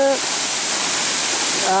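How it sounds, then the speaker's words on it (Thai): Mae Suk waterfall in forest at Doi Luang, Phayao, a loud steady rush of falling water heard close, with someone speaking briefly at the start and end. "นี่ครับ น้ำตกไม่ซุก"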